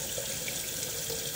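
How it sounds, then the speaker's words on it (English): Steady running tap water pours over a pressure cooker to cool it, a continuous close hiss of flowing water with no talk. "What you need to do is simply put the cooker under the hot water, cold water"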